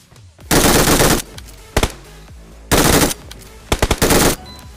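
Automatic gunfire in PUBG Mobile: two loud sustained bursts of rapid fire, each followed by a few short single shots, close and clear with no talk.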